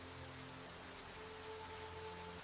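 Rain starting to fall in an animated ant story: a soft, continuous hiss of rain on surfaces, faint and even, with a low steady hum beneath and no voices.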